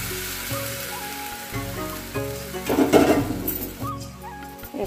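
Food frying in raw mustard oil in a kadai on a stove, a steady close sizzle that swells into a louder crackling burst midway before settling again, with no one talking.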